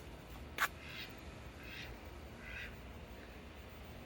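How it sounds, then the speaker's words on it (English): Ducks on a homestead quack faintly from outside, a few soft distant calls spaced over a few seconds, with one sharper brief sound near the start and no talking. "there's my ducks out there talking to me because I hear my voice"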